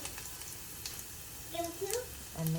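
Cumin seeds and garlic sizzle and crackle in hot oil in a home kitchen pan, a steady close frying hiss with brief pops and faint background tones near the end.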